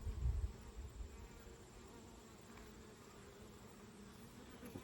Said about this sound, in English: I'm just going to shake in some bees.